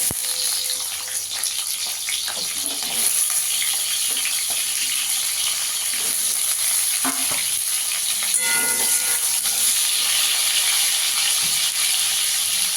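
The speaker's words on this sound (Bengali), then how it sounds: "আলুটাকে একটু লাল করে ভেজে নেব।" Potato pieces fry in oil in a pan with a steady, continuous sizzle and occasional stirring clatter, close and moderately loud, with no voices.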